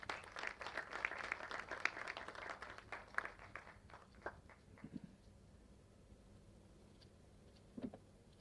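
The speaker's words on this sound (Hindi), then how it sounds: "तालियां बजती रहनी चाहिए।" Audience applause at a 104th birthday celebration event honouring Khumar Barabankvi, a dense burst of clapping in the opening seconds that thins into scattered claps and fades, with a few isolated claps near the end.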